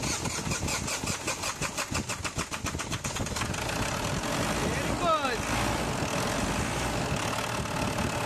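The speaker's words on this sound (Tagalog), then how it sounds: "pa-start ko ulit itong makina" A Ford Everest engine cranks with a fast rhythmic churn for a few seconds, then catches and settles into a steady, loud running drone.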